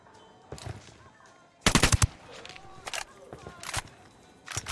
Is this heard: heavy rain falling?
no